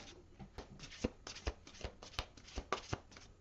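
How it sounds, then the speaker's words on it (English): Tarot cards being shuffled by hand: a steady run of crisp riffling slaps and soft papery flutters, close and fairly quiet, with no talking. "One more shuffle."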